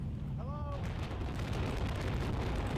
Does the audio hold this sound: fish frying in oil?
no